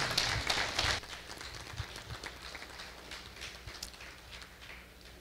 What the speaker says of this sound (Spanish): Fuertes palmas.